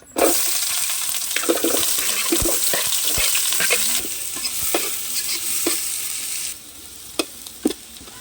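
Sliced onions for a large batch of chicken biryani stirred and frying in hot oil in a pan, a steady close sizzle with scraping stir strokes and occasional clinks, softening after a few seconds.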